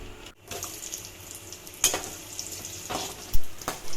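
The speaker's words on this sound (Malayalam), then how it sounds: "ഇനി ഒരു പാനിലേക്ക് കുറച്ച് നെയ്യ് ഒഴിച്ച് കിസ്മിസും കാഷ്യൂനട്ടും നമ്മൾ വറുത്തെടുക്കുകയാണ്." Close, continuous sizzling of raisins and cashews frying in ghee, with a few sharp clicks of a spoon stirring against the pan.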